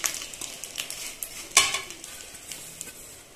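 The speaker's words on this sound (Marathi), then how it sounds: "बघा, गूळ छान असा मिक्स करून घ्यायचा." Jaggery stirred into hot ghee in a wok, a spoon scraping and clinking against the metal in quick irregular strokes over a soft sizzle, with one sharper knock partway through; close and fairly quiet, no voices.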